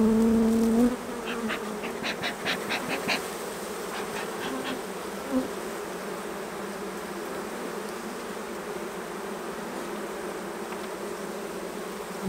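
A steady insect hum of many honeybees buzzing throughout as they are shaken off a hive frame, with a few brief higher chirps early on and no talking.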